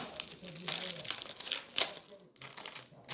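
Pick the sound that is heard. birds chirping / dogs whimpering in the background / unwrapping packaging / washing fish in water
unwrapping packaging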